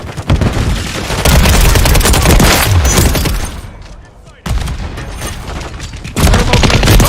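Stun grenade detonation in a tactical shooter video game: loud sustained gunfire, a sudden dip, then a sharp blast and renewed heavy noise, with a voice faintly under the din.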